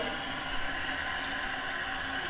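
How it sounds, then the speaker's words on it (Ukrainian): A steady, close rush of tap water pours over a moka pot in a sink, continuous and even throughout with no pauses. "вмикаємо водичку. Можна прямо лити на нашу моку, щоб вона охолола"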